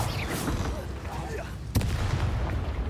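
A fire spell cast in Hogwarts Legacy goes off as a sudden loud whooshing burst partway through, over a steady rumbling bed of game noise and combat effects.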